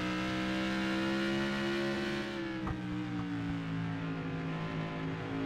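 Tour Modified race cars circling a short track in iRacing, a loud, sustained engine drone with pitch that slowly slides as the cars hold speed near the end of the heat race, no talk over it.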